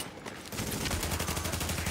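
Gunfire from Tom Clancy's The Division, a sustained burst of rapid automatic shots that starts abruptly after a quieter half-second and stays loud and dense to the end.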